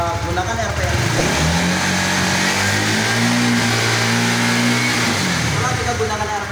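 A Honda CB150R motorcycle engine held at high RPM, a loud, close, steady mechanical drone with rising and falling revving tones and no speech.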